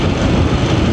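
A VOGE DSX 900 motorcycle engine runs smoothly below 3,000 RPM in third gear, a loud, steady low rumble with no change in pitch, no voices.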